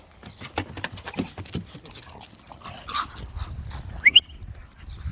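A dog moves about indoors with soft pattering and scuffling, a few faint whimpers, and some low snuffling noises, all fairly quiet with no one talking.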